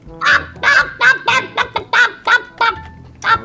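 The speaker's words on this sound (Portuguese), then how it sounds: "o pato tá falando igual a Arlequina" A duck in GTA 5 quacking in a rapid series of about ten loud, nasal honks, close and evenly spaced with short gaps between them.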